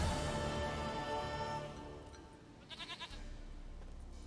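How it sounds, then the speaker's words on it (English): A goat in The Witcher 3: Wild Hunt gives a short, wavering bleat of several quick pulses, heard faintly over a sustained musical background. "Goat of mine, dearest, sweetest goat."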